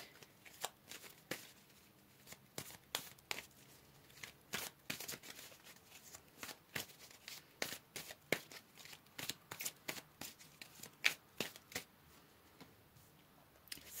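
Tarot cards being shuffled by hand, a near, crisp run of riffling flicks and soft slaps in irregular bursts throughout, fairly quiet with no talking.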